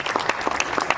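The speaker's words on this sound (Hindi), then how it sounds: "ताली बजाकर इस पुस्तक का विमोचन करें" An audience claps at a book release ceremony for a poetry collection, a brief burst of close, dense applause with individual claps standing out.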